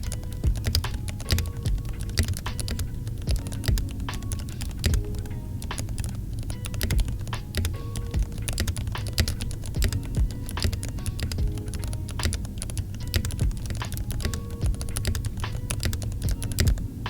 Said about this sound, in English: I'm gonna try out how the keyboard sounds like on Monkey Type.